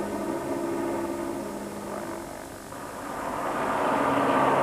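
A helicopter at the Dakar 2004 rally hums as a steady engine drone with rotor throb, continuous and moderately loud. The drone dips briefly in the middle and then swells again.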